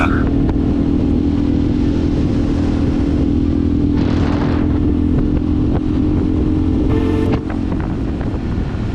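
A Honda Varadero 125 motorcycle cruises along a road, its small engine a steady, loud drone mixed with wind rush, heard from the rider's position and unbroken throughout.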